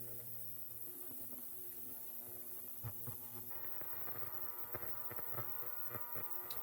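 An ultrasonic cleaner runs with pens soaking in it, giving a steady electrical hum with a low throb underneath and a few faint clicks and taps scattered through.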